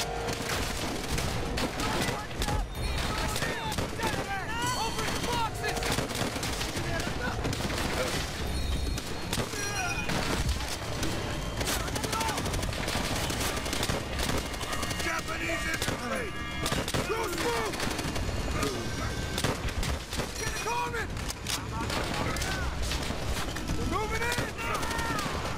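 Dense, near-constant gunfire from the Call of Duty: World at War video game crackles through the whole stretch, with rapid bursts, single shots and occasional booms layered together while a player talks over it.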